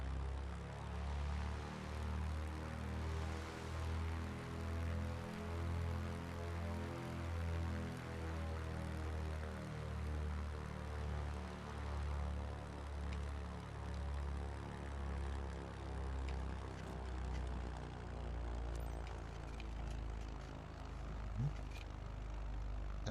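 A propeller airplane in Microsoft Flight Simulator 2024 drones loudly and steadily on the runway for its takeoff, a continuous buzzing engine and propeller tone that holds throughout with no pauses.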